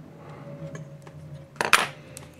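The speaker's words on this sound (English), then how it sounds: "And so you can cut off the sheathing like that." A Paladin Tools cable stripper snips through network cable sheathing with one sharp, close cutting snap after a stretch of quiet handling, with no talk.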